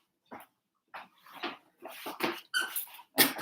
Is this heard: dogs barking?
yes